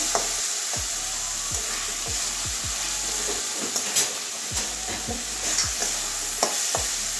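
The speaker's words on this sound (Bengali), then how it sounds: "যেহেতু কাঁচা আছে আমার কাঁঠালের বীজটা, ওই জন্য কষিয়ে নিচ্ছি আগে" Raw jackfruit seeds sautéed in hot oil in a pan, a continuous sizzle and hiss with repeated scraping stirs of a spatula, close and steady.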